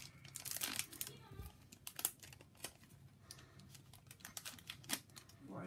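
A Yu-Gi-Oh booster pack's foil wrapper being torn open and crinkled up close, with sharp crackling bursts and rustling that stay faint and irregular throughout.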